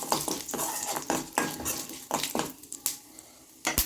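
Mustard seeds and urad dal crackle and fry in hot oil for a tempering, with repeated close metal clinks of a spoon stirring against the pan in an uneven rhythm.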